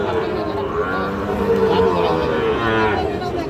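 A Sahiwal bull calf moos at the busy Raniganj cattle market, a drawn-out lowing call heard under people's talk and the constant crowd noise of the market.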